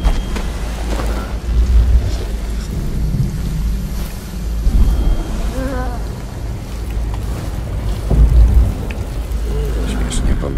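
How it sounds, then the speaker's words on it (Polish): Rumbling thunder with steady rain in a stormy scene from Dishonored: Death of the Outsider, with deep low rolls swelling several times over a constant wash of rainfall, while a person talks over it. "Ktoś usłyszał, jak uderza piorun, czy co?"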